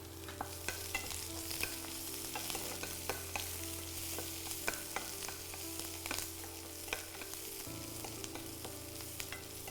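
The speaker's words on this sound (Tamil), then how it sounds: "வெங்காயம் நல்லா ஒரு அரை பதம் அளவுக்கு வதங்கட்டும்" Onions frying in a pan, a steady close sizzle broken by frequent clinks and scrapes of stirring, with no voices.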